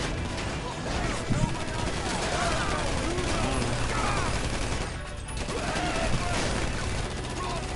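Rapid gunfire in GTA during a heist setup mission, a dense continuous crackle of shots that runs nearly the whole time, dipping briefly partway through, with game noise mixed in.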